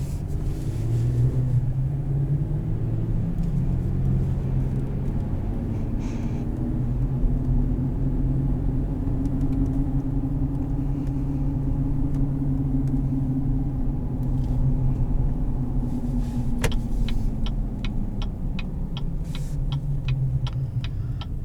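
A low, steady engine rumble drones throughout as a 2018 Chevrolet Colorado ZR2 pickup drives along, its pitch swelling and easing slightly, with light ticking near the end.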